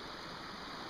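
Corey Creek, a Pennsylvania trout stream, flows with a steady close rush of water, an even broadband hiss with no voices over it.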